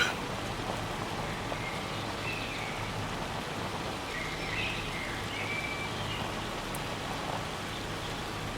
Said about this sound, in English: it's not supposed to be raining right now, according to the forecast, but it is. It looks like hail